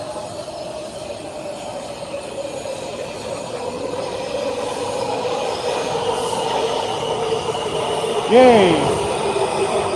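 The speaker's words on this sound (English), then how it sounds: "Here comes the train." A train rolls past at a live outdoor poetry reading, a steady broad rumble that swells over the seconds with a sharp wheel or brake squeal near the end, and a voice cheers once.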